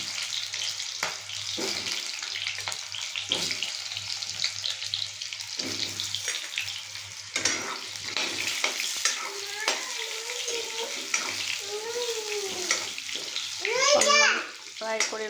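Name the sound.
potatoes frying in oil in a kadai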